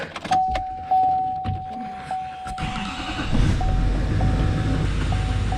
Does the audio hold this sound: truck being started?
yes